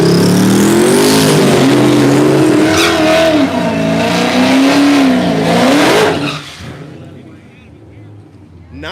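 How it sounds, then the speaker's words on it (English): A Mustang and a boosted C6 Corvette street race at a Tulsa street takeover: loud, close engine roar with rising revs for several seconds, then the cars fade quickly into the distance and a quieter background takes over. "8-1 out of the Mustang and a 9-4 for Chris. Man, that is a street legal C6 vet"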